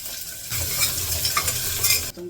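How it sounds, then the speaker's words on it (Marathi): Onion being stirred and sautéed in a hot pan with garlic and chillies, a loud close sizzle and hiss with scraping stir sounds that cut off abruptly near the end. "कांदा थोडा परतून घेते"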